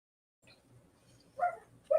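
A dog barking indoors, two short, close barks after a quiet lead-in with faint movement, no talk.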